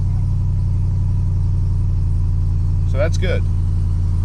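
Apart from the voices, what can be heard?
Ram TRX 6.2L truck engine starting after tuning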